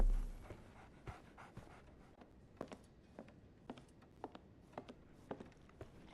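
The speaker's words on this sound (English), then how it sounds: "So, Barnes has a dog now." A dog pants in the video game Sherlock Holmes: The Awakened, with soft rhythmic breaths and faint scattered clicks over a quiet background.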